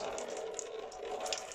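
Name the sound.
lukewarm water poured from small bottle to rinse hair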